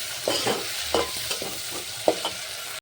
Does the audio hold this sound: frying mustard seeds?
yes